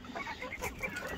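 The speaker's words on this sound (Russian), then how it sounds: "Это юрловская курочка, очень красивая." Yurlov hens and young roosters cluck in a coop, a steady run of short close clucks and murmurs with no pauses.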